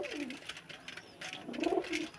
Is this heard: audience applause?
no